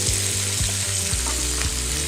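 Onions sizzling steadily in hot oil with cumin for a parwal korma, a loud continuous fry with a dense hiss and a few stirring scrapes against the pan, no voices.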